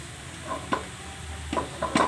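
Shredded cabbage frying lightly in a little oil for vegetable cutlets, a soft low sizzle with a few sharp stirring taps and scrapes, close and fairly quiet.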